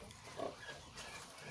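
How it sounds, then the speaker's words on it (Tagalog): A lone pig on an organic farm gives a brief grunt, close and moderately loud, over a low farmyard background. "isa lang daw baboy nila"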